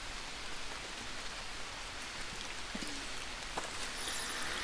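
Steady, soft video-game rain hiss fills the whole stretch, a constant wash of falling drops with a few faint ticks and no voices.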